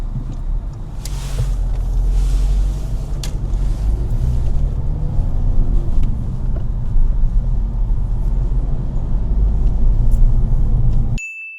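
A learner driver's car pulls away uphill with plenty of throttle, a steady close engine rumble building through the whole stretch with no talk over it, cutting off abruptly at the end.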